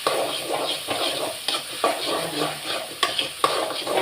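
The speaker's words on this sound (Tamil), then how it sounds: "நல்லா மிக்ஸ் பண்ணி வச்சுக்கலாம்." Food being stirred and mixed in a hot pan with oil, a busy sizzling fry broken by repeated scraping and clinking strokes of a utensil, close and fairly loud, with no voices.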